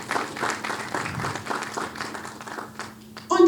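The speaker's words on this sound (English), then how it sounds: "Let's kindly give them a round of applause too." An audience at a breastfeeding and working parents event applauds, giving light, scattered clapping at moderate volume. A brief voice or sound rises at the very end.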